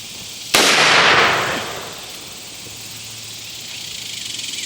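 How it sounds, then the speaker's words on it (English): A single sharp, loud gunshot fired by a son at the range, followed by a decaying echo and a quiet tail of ambient noise. "Which one you shooting at?"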